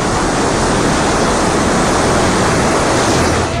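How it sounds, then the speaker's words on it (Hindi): A swollen river in flood after heavy rain surges past in a loud, continuous roaring rush of churning water and waves, with no voices heard. "नदी की उफनती लहरें इसे कभी ऊपर उठा ले जा रही हैं,"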